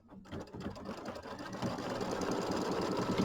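A Kimberbell embroidery machine stitches down an applique piece on a mini quilt, its needle chattering in a fast, steady mechanical rhythm that starts up and grows louder, close by.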